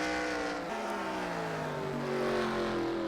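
Stock race cars roar around Stafford Motor Speedway on the final lap, several engines droning loudly together with shifting pitches as they rev and pass, a dense continuous wall of engine noise.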